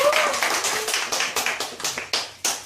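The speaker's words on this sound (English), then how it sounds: "Clap, yes, let's go." A burst of quick hand claps from participants at the end of an online English conversation class, a steady run of sharp, fairly close slaps lasting a few seconds with no talk over them.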